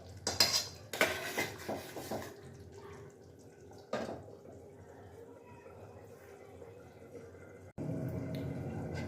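A spoon stirs chicken keema in a pot on medium flame, giving sharp metallic clinks and scrapes up close at the start, then quieter stirring and a low simmering background.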